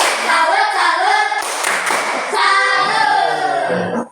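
A class of students claps a rhythmic 'tepuk salut' cheer in a classroom, bursts of clapping mixed with shouted chanting voices, loud and close for about four seconds.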